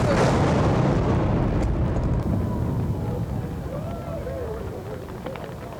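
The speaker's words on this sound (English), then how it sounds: "the cannon is about to go off again" A heavy cannon boom at the 1991 Parade of Sail in Fall River rolls out at the start and decays into a long rumbling tail, with faint voices and crowd sounds emerging afterward.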